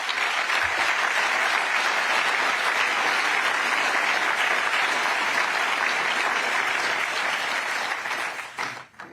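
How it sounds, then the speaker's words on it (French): Sustained applause from an audience at a French evening gathering against antisemitism, loud and steady clapping that fills the room for about nine seconds before fading out at the end. "nous pouvons les applaudir."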